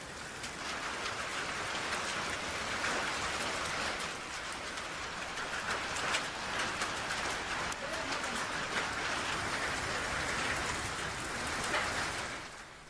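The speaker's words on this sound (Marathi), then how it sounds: "संध्याकाळच्या सुमारास भीमाशंकरला गारपीट सुरू झाल्यामुळे भाविकांची चांगली चारांबळ उडाली" A hailstorm with rain at Bhimashankar makes a steady, dense hiss and patter, continuous and fairly distant-sounding, with scattered sharper impacts throughout and no voices.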